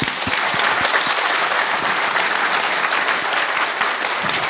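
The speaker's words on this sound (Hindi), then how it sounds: "So, can we just have a big round of applause?" An audience at a conference session claps in a big, sustained round of applause, dense and steady throughout with no pauses.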